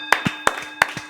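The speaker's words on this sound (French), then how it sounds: "On applaudit Sokolo pour ces questions bizarroïdes." A handful of sharp hand claps on a French daytime talk show, spaced irregularly across about a second, close and fairly loud with softer claps between the main strikes.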